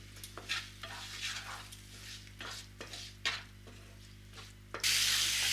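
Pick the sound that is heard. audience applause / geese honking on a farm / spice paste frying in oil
spice paste frying in oil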